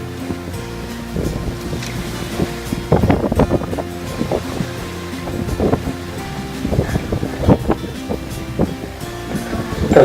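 A sailing boat moves briskly under way at sea, water sloshing and surging against the hull in irregular bursts over a steady low wind rumble, close and fairly loud with no talking.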